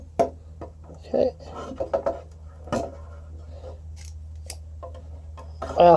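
Scissors snip rosemary cuttings with a few short, close cuts and some rustling handling noise, a final crisp snip at the end, over a low background hum.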